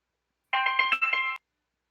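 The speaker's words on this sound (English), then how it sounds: "That was the bell of the story beginning right there." A short electronic ringing tone, like a phone call or doorbell, sounds alone in a clear burst of a few pulses lasting under a second, with silence before and after.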